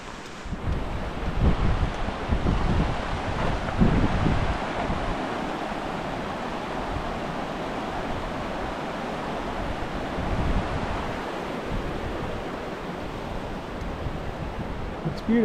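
The South Fork of the Sun River flows at about 650 CFS, making a continuous, loud, broad rush of water with some wind buffeting mixed in.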